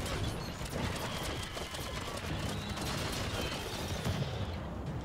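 A HyproChispa Ozarhipro rifle in the video game Biomutant fires in rapid, dense bursts of crackling shots with a high rate of fire, loud and continuous throughout, with no talking.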